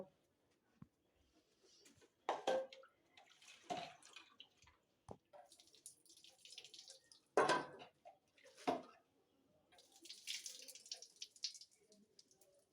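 Raw chicken pieces are washed by hand under water for pakoras. Irregular splashes and trickles come and go, separated by quiet gaps, with light clatter from handling. No one speaks.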